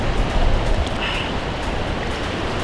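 A mountain stream in Talas, Kyrgyzstan rushes in a close, steady broadband wash of flowing water with no voices.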